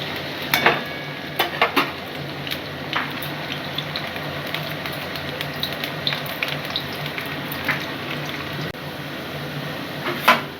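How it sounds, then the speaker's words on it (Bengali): Small diced potatoes fry in a pan for a Bengali mulo ghonto, giving a steady, close sizzle throughout with occasional sharper crackles and pops. "এই আলুটা আমি ভেজে নিচ্ছি"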